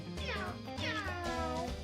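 A house cat meows loudly and close by, giving two drawn-out, wavering calls back to back, with low background hum and no talking.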